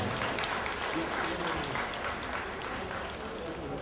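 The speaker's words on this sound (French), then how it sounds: "Je vous demande de l'applaudir, mesdames et messieurs, à cette découverte." An audience at a charity fundraising event for a mother-and-child NGO applauds: a faint, steady wash of many hands clapping at a distance, with crowd voices blended in.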